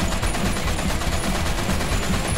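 Machine gun fire in the video game WET rattles loud and unbroken, a dense, rapid stream of shots filling the whole stretch.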